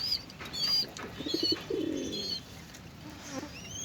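A pair of racing pigeons, a male and a female, make soft low coos and a brief flutter of wings. A few faint high chirps sound nearby over a quiet background hiss.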